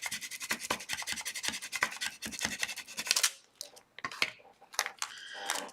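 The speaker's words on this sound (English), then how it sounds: "when you're doing vinyl or adhesive foil or anything, you want to turn it over and burnish it down" Adhesive vinyl or foil burnished down onto card stock with a scraping tool, a dense run of close, loud rhythmic rubbing and scratching strokes, then a few shorter separate scrapes with brief pauses between them.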